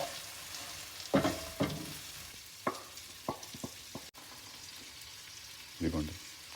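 Boiled chicken frying in ginger garlic paste in a pan, a steady soft sizzle broken by several sharp clanks and stirring bursts, close by, with a voice faintly present.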